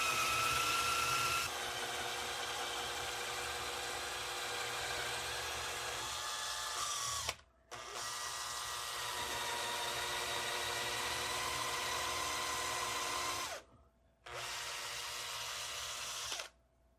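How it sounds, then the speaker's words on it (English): A power drill whines steadily in three long runs into a rifle's rolling block, stopping briefly twice, with a high electric motor tone close by. "I want to drill just down past the screw hole"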